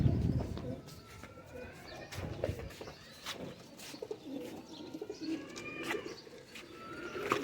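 Pigeons of a rare-coloured Khatang breed cooing in a loft, low murmuring coos repeating steadily at moderate distance with scattered chirps and rustling throughout.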